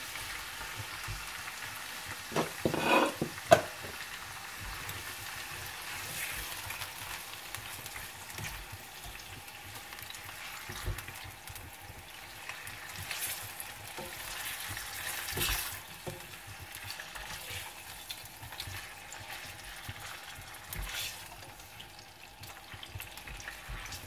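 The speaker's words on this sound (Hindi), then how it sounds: "और चिकन को थोड़ा सा इसमें भूनूंगी।" Soft, steady sizzle of chicken frying in a pan after ginger and garlic, with a few faint scrapes and clinks from stirring; quiet and close, no talking.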